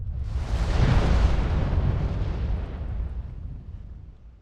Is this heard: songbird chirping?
no